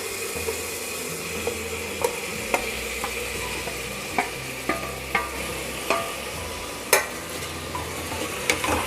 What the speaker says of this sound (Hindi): एक बार अच्छे से मिक्स कर देंगे सब सब्जियों के साथ हम इसे।